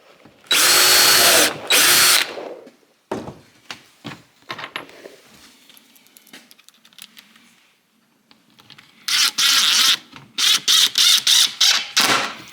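A power drill drives screws into a wooden Adirondack chair in two loud bursts: one long whir near the start, then a run of short stop-start pulses near the end, separated by quiet handling and tool clatter.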